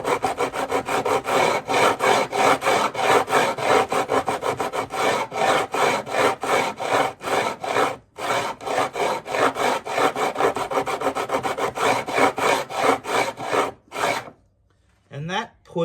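A triangular file rasps along guitar frets set in timber, rhythmic back-and-forth strokes, close and loud, steady for a long run with two brief pauses before it stops.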